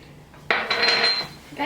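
A utensil clinks and scrapes against a bowl while stirring sliced peaches with sugar, a short, bright, close clatter.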